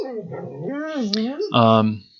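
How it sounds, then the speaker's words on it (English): A dog on a residential street gives a drawn-out, wavering howl that slides up and down, then breaks into a sharper yelping cry, close and clear before trailing off. "Neighbor dog's walking down the street."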